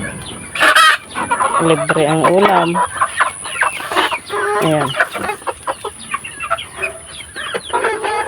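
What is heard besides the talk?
chickens clucking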